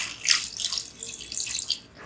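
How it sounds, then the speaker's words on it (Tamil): Water pours into a cooking pot holding onion, turmeric and cumin for a lamb kidney fry, a brief close splashing trickle that swells and fades in short pulses. "கொஞ்சம் தண்ணி ஊற்றிக்கிறேன்."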